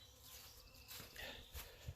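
Bees buzz around homemade wooden hives with grooved deeps; soft, scattered wingbeat drones drift past at close and middle distance, faint and irregular against a quiet outdoor background.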